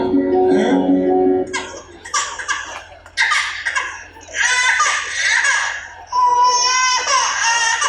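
An infant cries loudly in short wailing bursts during a mime performance about the harmful effects of mobile phones. The sobs rise and break repeatedly over a low steady hum, and no words are spoken.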